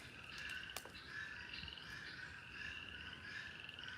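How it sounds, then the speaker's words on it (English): Tree frogs croak in a steady, overlapping chorus, continuous and moderately distant, with a sharp click or snap partway through. "Little tree frogs?"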